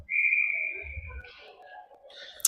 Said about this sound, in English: there was a whistle by the ref